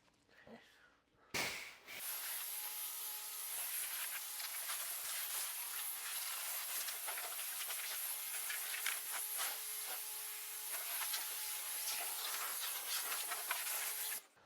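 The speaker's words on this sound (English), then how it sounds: "I'm gonna rinse it off." Water spray rinsing foam off a car coated with Cerakote ceramic coating, a steady close hiss of pressurized water that runs continuously after a short start, with no talking.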